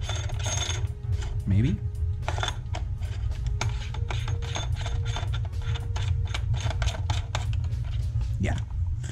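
A brass barrel is threaded into an X Zeus, with a rapid run of small ratcheting clicks and metallic ticks over a low rumble, close by, with a brief spoken word partway through.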